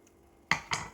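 A knife slices through an avocado for a banana and avocado smoothie: two crisp, close cutting sounds about a quarter second apart, with quiet room tone around them and no talking.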